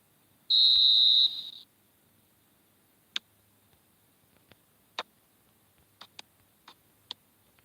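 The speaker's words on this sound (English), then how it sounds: "And the whistle goes for half-time." A referee's whistle in an eFootball video game match sounds one long, loud, steady blast for half-time, followed by a few faint clicks and ticks in an otherwise quiet background.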